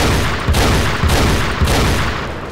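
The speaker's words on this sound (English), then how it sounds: "I'm going to go ahead and pull out my sniper rifle and try to get that guy." Sniper rifle shots in the video game Battlefield Heroes, three sharp booming reports spaced about half a second apart, loud and close over a dense, continuous battle-noise bed.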